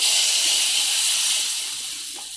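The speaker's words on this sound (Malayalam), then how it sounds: "ഇനി താളിച്ചത് സാമ്പാറിലേക്ക് ഒഴിക്കാമേ." Hot tempering hits a pot of Kerala-style sambar with a loud, steady sizzling hiss that dies down slightly toward the end, with no voices over it.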